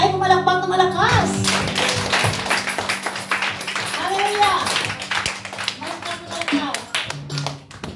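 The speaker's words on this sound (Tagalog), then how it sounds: "So lahat ng handa na ay pumalakpak na malakas." A church congregation claps loudly in rhythm, a dense steady patter of hands running through the whole stretch alongside music and voices.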